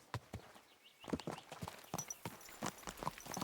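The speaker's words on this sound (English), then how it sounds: "A horse, oh." Horse hooves clip-clop in quick, uneven steps in the video game Kingdom Come: Deliverance 2, fairly close and moderately quiet. The hoofbeats start after a brief hush and carry on with no speech.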